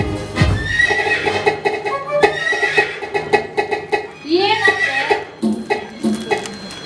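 A horse whinnies several times in a Kannada stage play, its high, shaky neighs cutting through dense music and rhythmic clip-clop beats, with a loud thump near the start.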